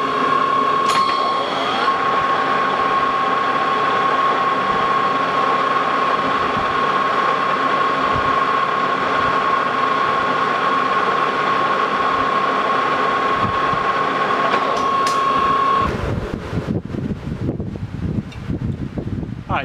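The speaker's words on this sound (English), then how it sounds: "Then we'll touch off and make a test pass, make sure we're cutting 12 threads per inch," A metal lathe cutting 12 threads per inch on a square head bolt during a test pass gives a loud, steady mechanical drone with a thin whine, running continuously, then stopping near the end, leaving scattered clanks.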